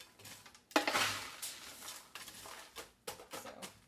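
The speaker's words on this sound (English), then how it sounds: "I'm just gonna load it into the container" Chunky homemade granola is scooped and tipped into a container in a few loud bursts of rattling and clattering, with quieter scrapes between them.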